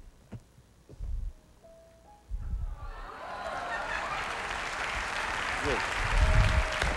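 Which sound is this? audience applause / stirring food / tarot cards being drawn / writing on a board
audience applause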